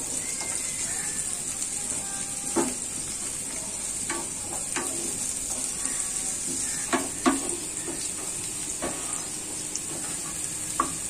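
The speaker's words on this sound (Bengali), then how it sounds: "পেঁয়াজ কুচি আর রসুন কুচি দিচ্ছি আমি। পেঁয়াজ আর রসুন কুচিটা একটু ভাজবো," Chopped onion and garlic sizzle steadily in a hot pan, with occasional soft scrapes and knocks of stirring breaking through the continuous hiss close by.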